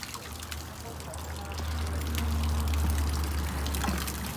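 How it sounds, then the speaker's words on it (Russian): A small waterfall somewhere in Mexico gives a steady, broad rush of falling water with a low rumble underneath, swelling a little halfway through, while voices murmur faintly nearby. "А нет, это просто водопадик такой вот."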